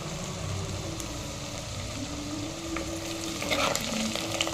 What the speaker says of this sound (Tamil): அந்த வெங்காயம் வந்து நல்லா சுருள வதங்கணும் இந்த எண்ணெயிலே